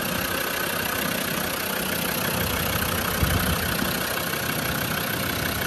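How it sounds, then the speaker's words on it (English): A late Land Rover Defender 110 TD5 diesel engine idles steadily, a loud, continuous low clatter and rumble with no speech over it. "late TD5 engine just doing what it should"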